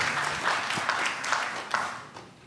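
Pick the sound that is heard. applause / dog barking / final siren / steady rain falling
applause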